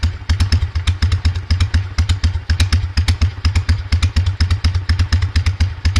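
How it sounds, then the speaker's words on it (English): A Harley-Davidson Evo motorcycle engine idles loud and close with a steady, lumpy potato-potato pulse of regular deep thumps, the mechanical clatter of each beat running through the whole stretch. "It was an Evo and they sound so much better than the current M8s."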